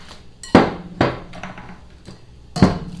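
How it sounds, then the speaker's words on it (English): Almond flour mixture being stirred into egg yolk mixture for a gluten-free strawberry cake, with three sharp knocks of a utensil against the bowl spaced about a second apart and a softer scraping between them. "And now we're going to add it to our egg yolk mixture and kind of stir it in."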